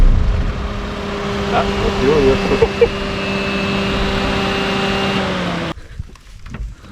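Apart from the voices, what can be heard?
car engine running and accelerating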